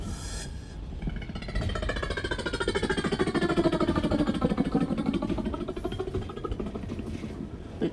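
A steady, rapid chopping whir lasts for several seconds, a beatboxer's voice imitating a helicopter's rotor with a throaty, pulsing drone that swells and fades, on a New York subway train.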